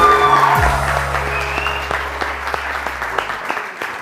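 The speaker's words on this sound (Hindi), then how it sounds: "हमारे लिए, सबके लिए तालियां बजाओ।" A studio audience on a TV morning show breaks into loud, sustained applause, a steady wash of many hands clapping close by, with a low droning tone underneath that fades out near the end.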